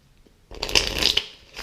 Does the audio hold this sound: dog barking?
no